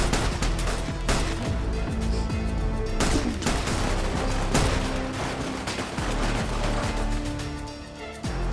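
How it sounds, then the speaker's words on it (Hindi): Rapid bursts of film-scene gunfire fired into water, loud and dense with overlapping cracks and booms continuing throughout, no voices over it. "पानी में ही गोलियां मारी जा रहे हैं बिना देखे।"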